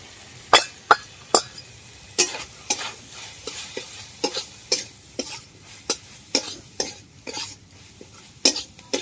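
An egg with salt and turmeric whisked in a bowl, a run of sharp, close clinks and taps in an uneven quick rhythm over a quiet background.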